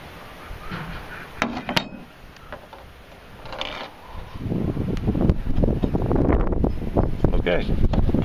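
Breezy outdoor wind rustles and buffets the microphone, lighter at first and then swelling into a steady, louder rush over the second half, with a few knocks and a faint voice mixed in.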